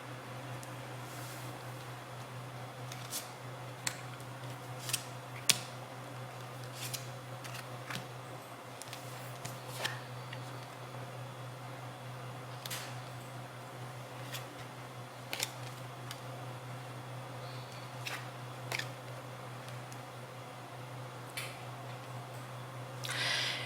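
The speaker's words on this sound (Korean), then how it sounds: "카드를 뽑아보도록 할게요" Tarot cards being drawn and handled, with soft, sparse ticks and taps of the cards spread over a quiet, steady hum and no talking.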